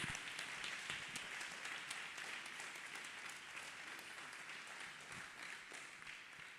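A church congregation claps hands together at a healing testimony service, a dense, steady wash of applause that stays fairly even and moderately loud throughout without easing off.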